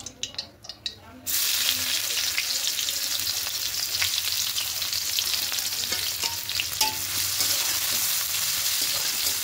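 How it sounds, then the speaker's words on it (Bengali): Onions dropped into hot oil, a sudden burst of loud sizzling that then holds as a steady close frying hiss with light stirring. "এবার এই তেলের মধ্যে পেঁয়াজ দিয়ে দেবো।"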